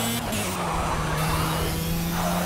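Racing karts in the Project CARS video game on the Dubai Kart Masters Cup, a buzzing engine whine held steady at speed with brief shifts in pitch, loud and close with no talking.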